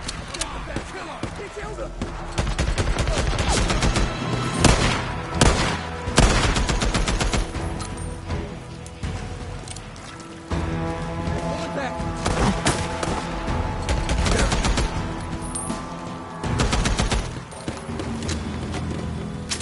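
Covering gunfire in a video game rattles through repeated loud bursts of automatic shots and heavy impacts over a busy battle mix, with shouted voices between.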